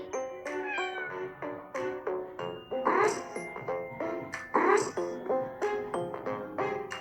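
A cartoon cat in a mobile dress-up game meows repeatedly, a rapid series of short, high, clear meows with a couple of longer, drawn-out cries in between.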